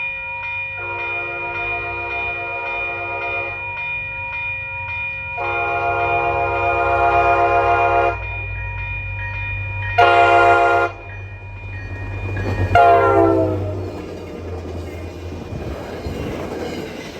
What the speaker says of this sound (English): another outbound commuter train, another F40 rebuild with a replaced horn